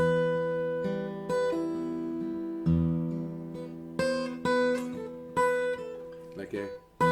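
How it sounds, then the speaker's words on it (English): A guitar plays a short run of ringing plucked notes, with one note sliding up and then back down, and no voices. "it's one finger that does a slide and then slide back."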